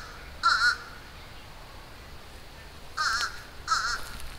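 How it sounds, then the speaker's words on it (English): A crow outdoors caws three times, one harsh call followed after a pause by two more in quick succession, fairly near against a quiet background. "That crow's still making a bunch of noise."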